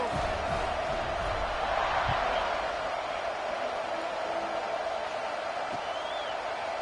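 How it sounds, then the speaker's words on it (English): Football stadium crowd just before kickoff, a steady loud roar of the packed stands that swells briefly and then holds level, with a commentator speaking over it. "You think this crowd's going to get loud when their defense comes on the field?"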